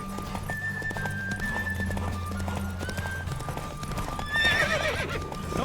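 Horse hooves clip-clop at a steady gallop in The Witcher 3, with a whinny rising near the end over a sustained game music bed.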